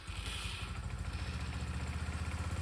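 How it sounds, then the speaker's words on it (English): A 150cc GY6 Chinese scooter engine runs steadily close by, a fast, even putter with a faint rattly edge and no voices. "The scooter runs!"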